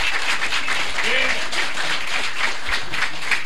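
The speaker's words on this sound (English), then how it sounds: "please give a round of applause for our wonderful panelists" A convention audience applauds panelists after an encryption panel at DragonCon 2017, a dense, steady wash of clapping filling the room with a few cheers rising through it.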